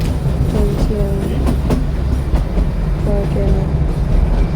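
Train running on rails heard from inside a carriage on the route toward Kalka, a loud steady rumble with clickety-clack wheel beats and squealing rail tones throughout, no clear talk.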